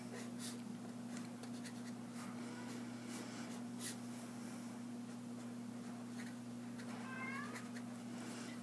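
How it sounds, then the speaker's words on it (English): A pet cat meows a few times in a quiet indoor room with a steady electrical hum, the short cries faint and spread across the stretch. "You can hear that our kitty objects to that on some level, evidently."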